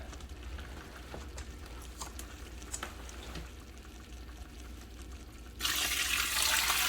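A loud, steady rush of about six cups of water pouring into a soup pot over meat starts near the end, after a stretch of quieter kitchen background noise.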